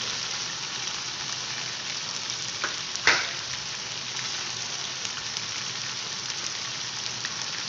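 Steady sizzling and crackling of chopped tomatoes frying in a hot pan, with one sharp clatter of a utensil partway through.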